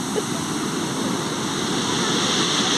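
A steady, loud roar of crashing surf on a beach, large surfable waves forming a dense wash of breaking water with no pauses.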